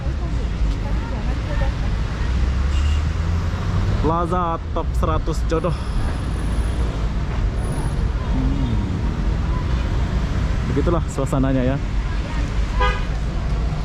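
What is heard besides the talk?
street traffic with buses in front of a Batam shopping plaza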